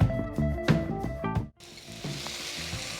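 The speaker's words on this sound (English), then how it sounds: "I'm going to add the mushrooms." Mushrooms drop into hot oil in a pot, starting with clattering stirring and scraping before a steady, close crackling sizzle takes over.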